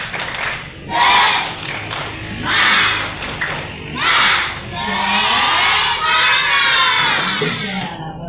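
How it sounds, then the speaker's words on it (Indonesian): A classroom of schoolchildren performs the tepuk semangat clapping chant during a lesson, with loud group shouts in rhythmic bursts that build into a sustained, excited cheer. "kita tepuk semangat dulu satu kali ya"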